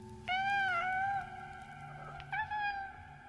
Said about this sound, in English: she heard what she thought was a kitten in the basement meowing